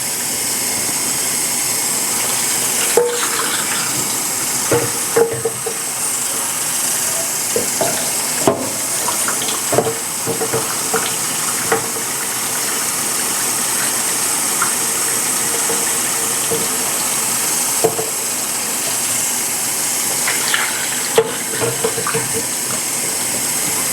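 Running tap water rinsing out a frying pan in a kitchen sink, a steady continuous wash broken by occasional clinks and scrapes of the pan, with no talking.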